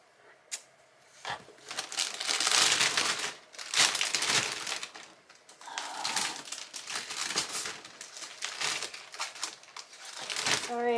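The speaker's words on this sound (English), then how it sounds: "Sorry again for the crinkles" Paper or plastic wrap crinkles and crackles in repeated bursts close by, with loud rustling handling noise that swells and fades across the stretch and a faint voice briefly audible.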